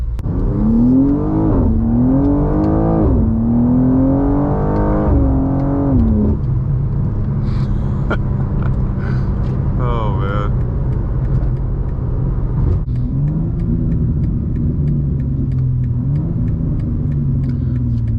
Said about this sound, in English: Lots of burbles, just no pops